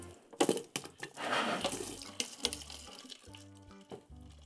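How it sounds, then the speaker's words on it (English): Warm water splashes and gurgles into a bottle holding yeast, a close, uneven pour with bursts of trickling and a few knocks, no voices over it. "you're just going to pour some warm water into the yeast"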